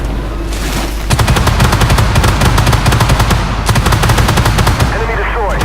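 Tank autocannon fire in Armoured Warfare from an AMX 30B2 Brenus, loud rapid bursts of sharp shots in quick succession with a short pause between two long volleys.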